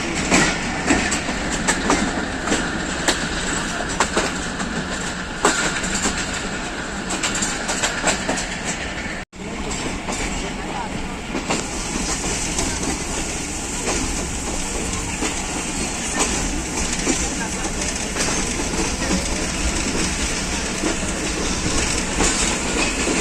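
The Hazara Express rolls into Rawalpindi station in Pakistan, heard from on board. A loud, steady rumble of wheels carries rhythmic clickety-clack over the rail joints and a faint squeal, with one brief dropout partway through.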